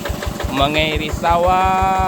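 An old two-wheel hand tractor, ten to twenty years in service and adapted as a water pump, runs with a steady rapid thumping beat close by while someone talks over it.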